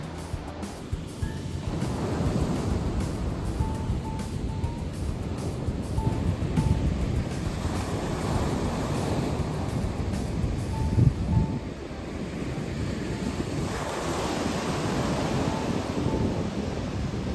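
Steady rush of surf rolling onto an Italian shore during a rainy cyclone, with wind buffeting the microphone throughout and a faint tonal hum in the background.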